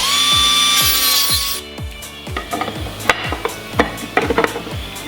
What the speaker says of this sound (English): You need to cut the notches out of it now.